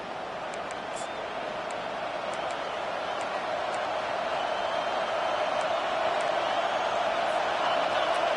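Stadium crowd at a college football game: a steady, dense roar from thousands of fans that holds level throughout, with a commentator talking over it.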